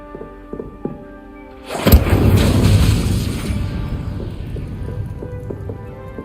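An Incendio fire spell bursts out in Hogwarts Legacy, a sudden loud whoosh-boom at about two seconds that roars and crackles before fading over several seconds, while soft musical tones play before and after.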